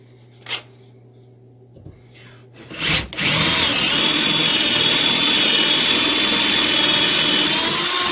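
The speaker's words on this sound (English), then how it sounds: "Now we'll take a drill bit, get in there and take some of this out" After a few clicks and knocks, a power drill whirs up and runs steadily and loudly, grinding into wood for several seconds.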